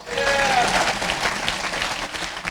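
Steady audience applause fills a hall during a Fresno athletic hall of fame ceremony, dense and continuous clapping at moderate volume that tapers slightly toward the end.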